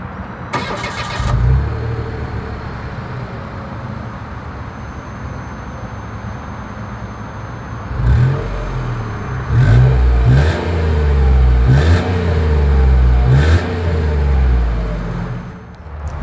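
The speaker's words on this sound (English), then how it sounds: "As always, here is that exhaust clip." A 2023 Mitsubishi Mirage G4 starts up close to the exhaust, settles into an idle, then gives several sharp revs that rise and fall in quick bursts before dropping back to idle, loud with no talking.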